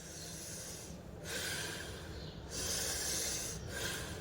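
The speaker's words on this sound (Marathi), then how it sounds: "श्वास घेणे जोरात सोडणे" Forceful exhalations whoosh out in bursts, about three strong breaths with short pauses between, close and noisy with no talking.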